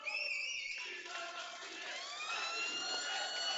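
The end-of-match siren wails at a Serie A2 roller hockey derby between Pumas and CGC Viareggio, a loud, wavering tone holding for several seconds over a noisy, cheering arena crowd.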